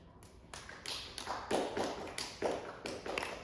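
Audience applause for the first act at a comedy show: a steady run of individual claps in an even rhythm, modest in volume and fairly close, with a faint murmur of voices behind it.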